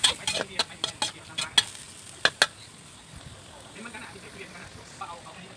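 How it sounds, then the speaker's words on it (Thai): Keto wild boar stir-fried in a pan with pink salt and water, sharp scraping stirs of a utensil clattering against the pan in a quick run of hits, then a softer steady sizzle as the water cooks off. "เติมน้ำผัดไปสักพักให้น้ำแห้งค่ะ"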